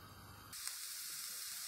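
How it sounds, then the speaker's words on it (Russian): One large chopped onion drops into hot vegetable oil in a frying pan. It sets off a sudden loud sizzle that settles into a steady, close crackling hiss. "к маслу в сковороду добавляю 1 крупную нарезанную луковицу 200 грамм"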